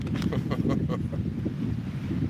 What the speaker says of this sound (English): It's pretty steady wind. It's not too gusty.